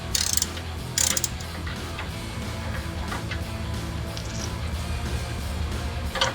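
A ratchet wrench loosens a rear shock bolt during a Roush Stage 2 suspension install on a 2005-2010 Mustang GT. Quick bursts of close, dry clicking come early on, followed by quieter mechanical fiddling and another short burst at the end.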